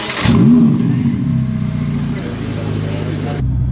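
Ferrari F8 Tributo at the Fiorano track, engine flaring in a sharp rev then settling into a loud steady drone heard from close by before cutting off abruptly; a voice speaks over it.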